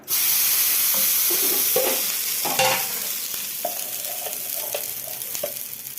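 Ridge gourd dosa batter sizzles and hisses steadily on a hot pan, a loud, continuous close frying sound with a few scraping clinks of a utensil and no talk.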